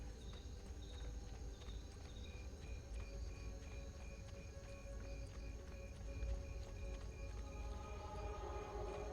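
Horse hooves clip-clopping at a steady walking pace in Assassin's Creed 2, a regular rhythm of soft knocks over a busy game soundscape with a constant hum and bright tonal chimes.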